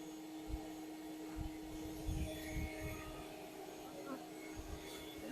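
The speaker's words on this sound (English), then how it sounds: "in order to keep the bees cool, we do have to keep the vacuum going" A bee vacuum runs continuously during the removal of a beehive from a rotting tree, giving a steady, fairly faint mechanical hum with a droning tone and occasional low rumbles and muffled sounds beneath it.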